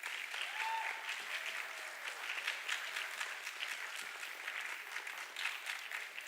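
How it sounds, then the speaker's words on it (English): At a 10th grade academic awards ceremony, an audience gives a steady round of applause, fairly distant and even, with a faint voice or whistle early on. "Let's give these folks a round of applause"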